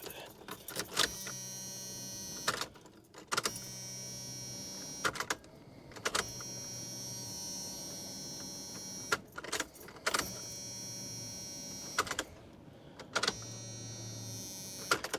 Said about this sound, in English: So prime it like 5 times and then I'll try to crank it.